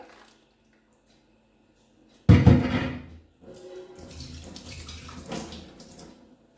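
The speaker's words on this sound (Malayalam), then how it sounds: "ഇനി നമുക്ക് ഈ ജാറൊന്ന് കഴുകി എടുക്കാം" A mixer jar is rinsed with boiled water, giving a sudden loud splash and pour followed by a few seconds of steadier, softer sloshing.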